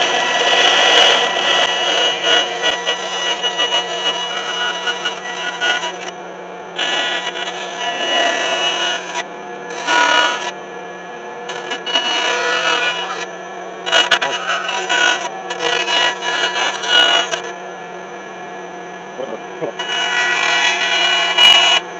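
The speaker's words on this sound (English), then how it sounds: "So next is putting this thing on the bandsaw, and we're gonna get this cut right here." A bandsaw cuts a cedar wood blank for a through-wire crankbait lure, giving repeated whining bursts of cutting that start and stop over a steady motor hum, near and moderately loud, with pauses between passes.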